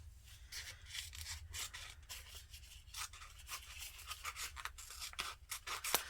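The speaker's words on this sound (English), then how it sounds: "So I am going to just cut myself" Scissors cut a small piece off a roll of dusty blue and cinnamon planner material, giving a run of faint, close snipping and rubbing strokes over a low hum.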